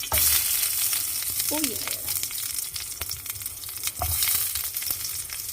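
Prawns and vegetables, including peppers, sizzle steadily in a pan at a small outdoor camp cooking station, with stirring clatters and a brief voice over the crackle.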